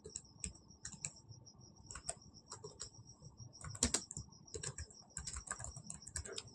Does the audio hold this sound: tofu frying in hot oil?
no